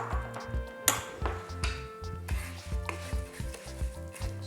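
Rice grains with a little salt toasting in a hot pan give a steady close sizzle, while a spoon scrapes and stirs in a regular rhythm of soft knocks, with one sharper clink partway through.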